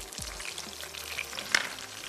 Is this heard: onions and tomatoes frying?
yes